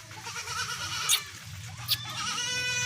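Makhi Cheeni goat bleating twice in short, nasal calls close by, over a steady murmur of farm background noise.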